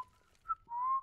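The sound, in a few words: person whistling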